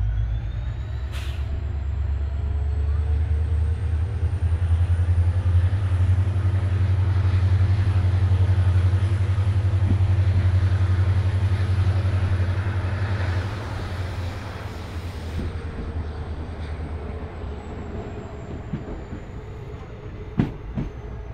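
The diesel-hauled Balurghat–Siliguri Intercity Express pulls away from a station with a loud, deep engine drone that swells and then eases as it leaves. Wheel clicks, brake hiss and a sharp knock follow as the sound fades.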